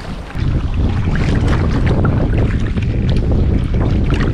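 Steady wind rushes over open water around a kayak, a loud continuous broadband roar with microphone buffeting and faint lapping, blowing at 15 to 20 alone without voices.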